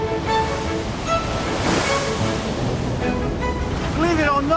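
Heavy, heaving sea waves wash and surge around a ferry on a crossing to the islands, a continuous rushing roar with wind noise, heard under a speaking voice.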